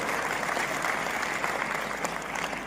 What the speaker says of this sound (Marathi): टाळ्या कमी वाजल्या